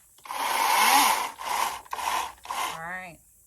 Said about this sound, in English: The chainsaw is working.